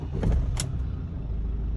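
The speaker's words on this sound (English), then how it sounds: "Engine starts." A BMW engine cranks and catches with a short mechanical burst, then settles into a low, steady idle that rumbles on close by.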